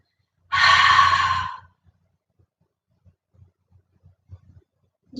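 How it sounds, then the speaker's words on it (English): A single long open-mouth exhale during a yoga breathing exercise, a close, loud breathy rush lasting about a second, followed by quiet faint stirrings. "And together, open mouth. Exhale, side out."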